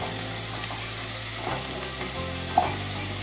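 Onions and drumstick pieces frying in a pan for munakkaya onion curry, a steady close sizzle with soft stirring and one brief knock, no talking.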